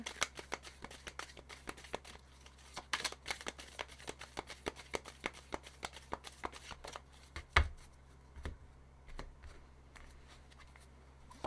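Tarot cards being shuffled by hand in a rapid, close run of crisp riffling clicks, easing into a few slower taps and slides toward the end.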